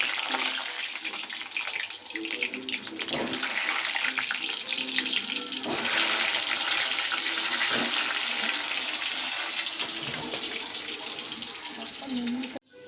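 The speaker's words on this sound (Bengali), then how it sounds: "আলুগুলো ভেজে নেব।" Potatoes frying in hot oil for a Bengali-style chicken dum recipe, a steady loud hiss and sizzle running throughout with a few faint clinks near the end.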